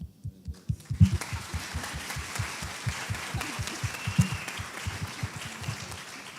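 A church congregation claps in a fairly rhythmic, unified beat, the individual claps distinct and steady at a moderate pace, with a faint wash of room sound under them for about six seconds.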